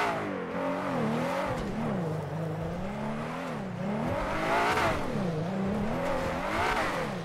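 A car engine in GTA 5 revs continuously, its pitch rising and falling in waves as the vehicle accelerates and eases off, loud and close with no talk.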